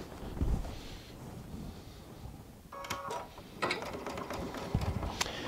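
A sewing machine chain piecing quilt fabric, a quiet rattling and whirring mechanical run that starts partway through and continues steadily with small clicks.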